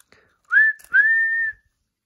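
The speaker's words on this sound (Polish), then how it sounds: "Pan konduktor gwiżdże." A train conductor's whistle sounds twice, a short blast and then a longer steady one, both loud, clear and near, with nothing else behind them.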